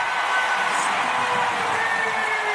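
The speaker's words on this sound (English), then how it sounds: "Crowd going bananas" A basketball arena crowd at a Big Ten women's game, Iowa against Wisconsin, roars steadily with dense, loud cheering and whoops, a sustained wall of noise with a commentator talking over it.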